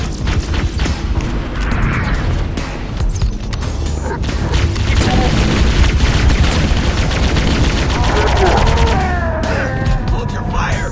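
Heavy bursts of gunfire and booming impacts from a Havoc mod video game battle, loud and continuous with crashes throughout, mixed with shouting voices.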